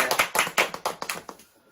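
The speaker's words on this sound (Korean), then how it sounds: "다시 한번 우리 박수로 축하드립니다." A small group claps for a graduating student at a youth worship service, a short burst of applause with distinct quick hand claps that thin out and fade within about two seconds.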